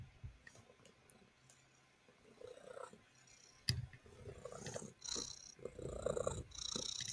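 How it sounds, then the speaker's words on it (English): A domestic cat purrs loudly and steadily at close range indoors, with a few small clicks and soft knocks from nearby movement around it. "She has a loud purr."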